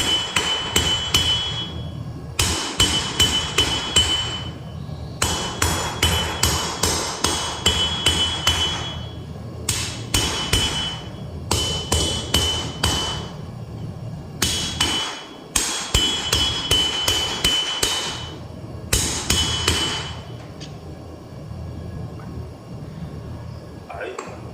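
A hammer forges the tip of a Bowie knife on hot steel in rapid series of ringing blows grouped in bursts with brief pauses, loud and close, while a person talks over the strikes.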